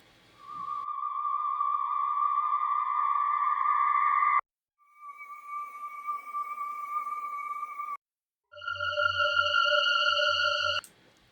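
Three separate sustained synthesizer tones, steady and electronic with bright harmonics, each held for several seconds and separated by short silences.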